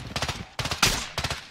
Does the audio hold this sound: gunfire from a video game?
yes